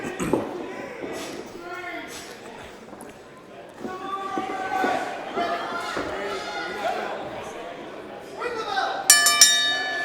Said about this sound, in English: The bell has rung.